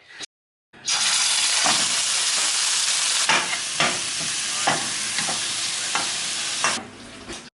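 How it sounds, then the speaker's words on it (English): Beef mince frying in a pan, a loud steady sizzle running almost the whole time with a brief silence near the start and occasional scraping stirs breaking through. "So you literally just cook the mince off, add barbecue sauce and the sriracha"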